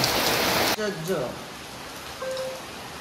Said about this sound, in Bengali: বৃষ্টি কি জোরে বৃষ্টি নেমেছে